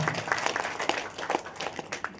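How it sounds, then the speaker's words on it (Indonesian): An audience at a motivational talk claps together, a short burst of loud, closely mic'd applause with irregular individual claps standing out. "Tepuk tangan dong buat kita semua ya."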